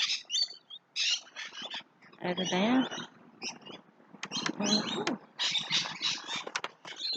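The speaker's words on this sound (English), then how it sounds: "the birds all went off flying." Birds chirping and squawking as they fly off in a backyard with grape vines, bright scratchy calls in busy bursts, close by, with a person speaking briefly between them.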